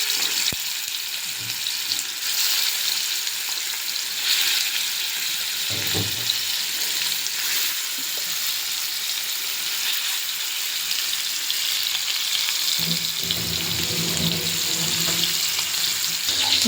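Chicken 65 fries in hot oil, giving a steady, moderately loud sizzle and bubbling hiss that runs throughout, with a few faint clatters and no talking.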